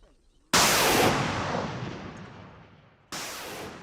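Heavy gunfire in Goma, eastern Congo, amid fighting with M23 rebels: a loud, sudden blast rolls away in a long echoing decay, then a second sharp report follows, with no clear voices.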